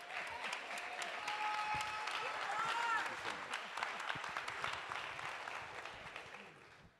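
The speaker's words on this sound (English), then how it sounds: "You come on and get some applause." Audience applause at a hip hop culture event, a moderately faint wash of clapping from a crowd with voices mixed in, swelling and then tapering off near the end.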